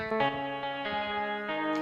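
Guitar notes played in GarageBand with reverb and distortion effects ring out as sustained, harmonically rich chords, a few struck notes blending into a lush, echoing tail, fairly quiet and alone.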